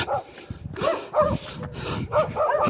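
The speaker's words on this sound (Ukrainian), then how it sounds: "Вибігла собака, гавкає." A dog runs out barking near a muddy rural road in Zastavna while someone jogs past, with a series of close, sharp barks and yips in uneven bursts.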